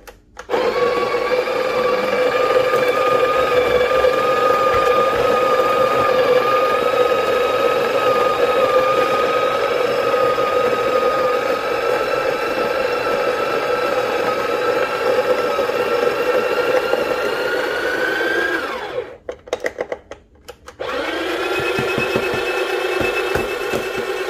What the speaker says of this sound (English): take 18 grams here let's put it in the hopper and my grind size is at 4